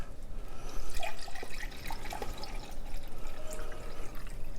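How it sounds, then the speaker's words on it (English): Brine for a red hot sauce is poured into a cup, a steady liquid splash and trickle with a few faint drips, close by and fairly quiet, with no talking. "let's pour some of this brine out into this cup"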